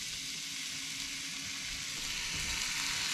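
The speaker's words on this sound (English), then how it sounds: "Listen to that sizzle, folks." Bacon and sausage sizzle steadily on a flat top griddle at a camp breakfast, a close, dense crackling hiss that holds constant without a break.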